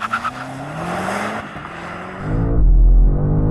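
A new BMW M5 launches hard from a standstill, its engine roaring up close with a rising, strained note and a brief tire squeal. A deep, loud rumble swells toward the end.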